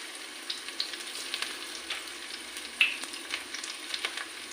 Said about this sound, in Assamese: এইখিনি ভালদৰে ভাজি লওঁ